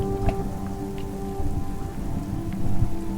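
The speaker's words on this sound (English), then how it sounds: "Oh, it's raining out in the thing." Steady rain patters in a video game set on an alien ocean world, with a low rumble of thunder underneath and scattered drips, moderately loud and with no talking.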